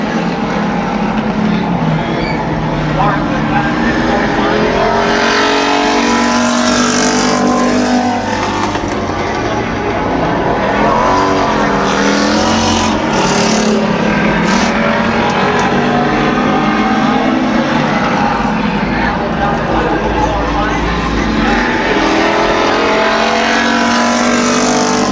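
Race cars roaring around the Midvale Speedway oval, a loud continuous engine din with rising and falling passes close by, sustained for the whole stretch with no talk.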